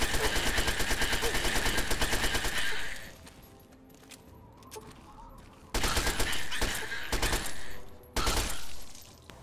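Rapid automatic fire from a 10mm SMG in a video game, a loud rattling burst of about three seconds, a quieter lull, then several more short bursts close together.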